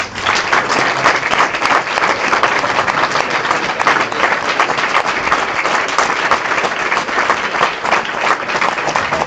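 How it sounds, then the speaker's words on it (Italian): Dense, loud applause fills a regional Democratic Party meeting hall in Veneto after a political speech. The clapping holds steady and continuous throughout, with no pauses or voices on top. "un applauso convinto"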